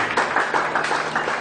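A short burst of congregation clapping in a church, quick uneven hand claps filling the room.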